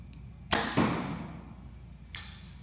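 An arrow with a practice tip is shot at a target: a sharp release and thump, a second impact just after, and another fainter hit about two seconds later, close and alone.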